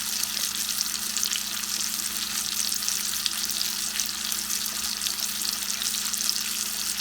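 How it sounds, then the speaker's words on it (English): Steady, loud sizzling of a T-bone steak frying in a hot pan, a constant crackling hiss with no talking. "Now steak is cooking, sizzling, look delicious."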